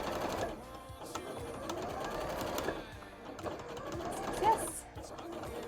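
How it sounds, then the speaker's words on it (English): A home sewing machine stitches pieces of a Pumpkaboo cosplay pumpkin, running in a quiet continuous whir with short bursts and pauses, close and fairly soft. "I think that I am sewing plenty of it in though."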